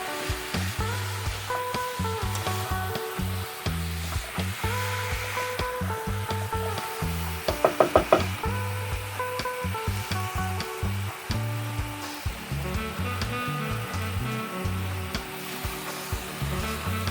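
Ground meat sautéing in a pan for spaghetti meat sauce, a continuous close sizzle with a short burst of louder clatter midway, no talk.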